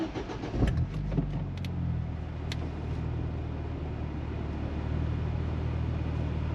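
A Ford Fiesta ST 180 with an Airtec torque mount fitted cranks briefly and fires, then settles into a steady, fairly loud idle heard up close with no talk.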